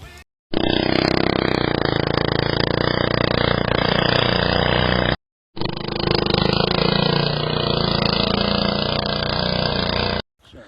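A gas-powered GT Snow Racer toboggan engine roars loudly and steadily up close. It runs in two long stretches separated by a brief cut in the sound.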